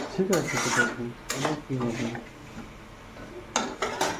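Meat with spices stirred and sautéed in a pan over low heat, a metal spoon scraping and knocking against the pan in several separated bursts, close by, with a voice speaking over parts of it.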